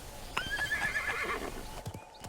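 A horse in the video game Realm Royale gives a loud, high whinny, followed by a few clopping hoof steps close by, with no talking.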